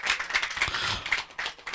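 Audience applause at a local village cricket tournament match, a steady patter of many hands clapping that lasts the whole moment at moderate loudness with no talk over it.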